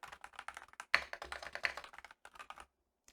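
A Montech MKey Freedom TKL keyboard with sound-absorbing pads being typed on up close, giving fast, dense clacking keystrokes in a steady flurry that stops abruptly into silence.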